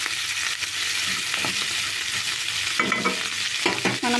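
Fish frying in a pan for a tamarind fish stew, a steady loud sizzle throughout with a few sharper crackles and stirring scrapes near the end.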